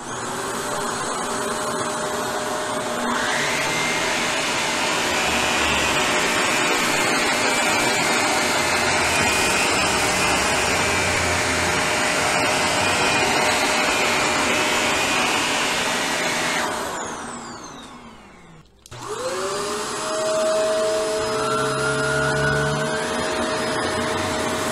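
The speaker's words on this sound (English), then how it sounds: "we ran each vacuum up tight against the wall." Shark Rotator ZU632 vacuum cleaner pushed tight along a carpet edge against a wall, a loud steady whirring roar that fades out, then briefly restarts with a rising whine.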